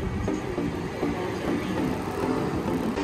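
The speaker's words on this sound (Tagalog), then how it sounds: "after 7 minutes, sakto sa oras dapating na yung train" An urban rail train rolls into a station, a continuous low rumble and clatter of wheels on track at close range, with no voices.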